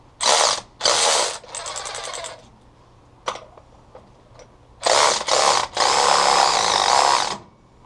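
Ratchet working a bolt loose on a Willys Jeep, with bursts of rapid, loud clicking separated by pauses, a few sharp single clicks and a metallic clank in between.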